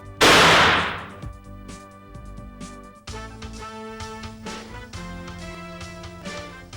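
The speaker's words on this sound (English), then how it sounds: "Now your revolver is ready to cock and fire." A black powder percussion revolver fires a single loud, sharp shot that rings out and decays, followed by a steady tonal hum and faint clicks from the gun.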